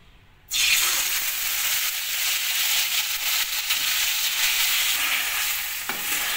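Marinated green chilli chicken hits hot oil with a sudden loud sizzle that holds steady and strong, with faint stirring scrapes and no talk.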